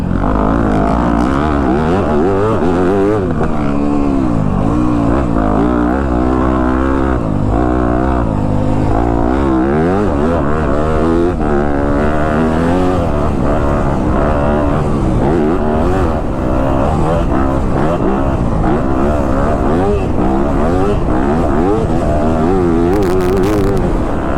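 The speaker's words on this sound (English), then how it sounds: "Me and John both on our new YZ250F" Yamaha YZ250F dirt bikes ride close by, their engines revving loudly and continuously with rising and falling pitch as throttle changes, running steadily throughout.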